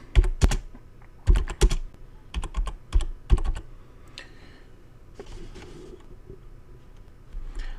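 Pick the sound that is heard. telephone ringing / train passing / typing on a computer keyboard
typing on a computer keyboard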